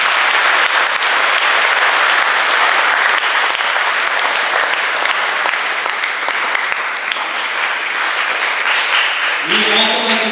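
Audience applause at a school education-week event, a steady wash of clapping from a crowd that fills the whole stretch at even loudness, with a brief voice near the end.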